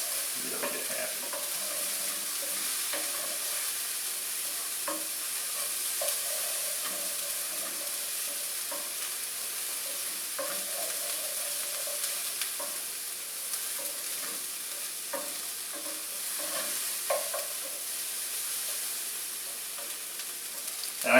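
Onions sizzle and fry steadily in a pan as they caramelize for an onion gravy, a continuous hiss broken by occasional stirring clatter, close and unbroken with no talking.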